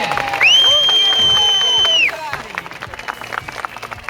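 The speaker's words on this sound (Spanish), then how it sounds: "estan convidats a aplaudir, cridar o escopir, si volen" A crowd at a medieval fair in Mascarell cheers and claps amid steady loud babble, while a long, shrill, whistle-like tone rises and holds for about a second and a half over the noise.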